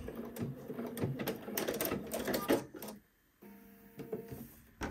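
A sewing machine stitches a garment shoulder seam, running in quick rhythmic bursts up close, then halting briefly before a short final run and a few clicks.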